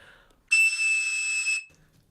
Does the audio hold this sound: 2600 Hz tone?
yes